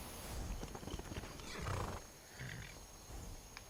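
A horse in a video game, near Fort Dawnguard, whinnies and snorts amid hoof clip-clops, fairly faint and slightly synthetic, with no talking.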